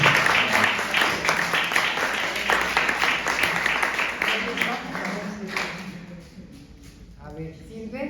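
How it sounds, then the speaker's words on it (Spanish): An audience at a public event gives loud applause, sustained dense clapping that gradually thins and fades as a voice begins speaking near the end. "Fuerte aplauso, por favor."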